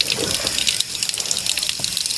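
Water running from a household tap, a steady close splashing gush into a sink, continuous and fairly loud with no talk.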